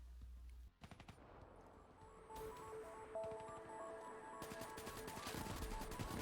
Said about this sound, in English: let's shoot some people with a 3-round burst